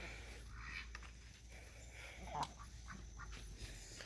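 Ducks on a homestead quack in a few scattered, faint calls against quiet outdoor ambience, with light rustling between them.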